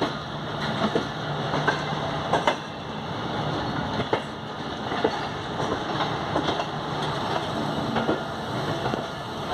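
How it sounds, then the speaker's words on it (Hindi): Tez Gam express train running from Jhelum to Lahore in Pakistan, heard from on board while crossing a rail car, with a steady loud rumble of wheels and rhythmic clicking of rail joints throughout, no talking. "रेल कार को क्रॉस दे रहे"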